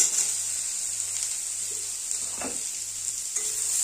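Chopped tomato stirred in a hot frying pan during cooking of a spicy pangas fish curry with potato and onion, a steady sizzle with a few soft scraping strokes, close and alone.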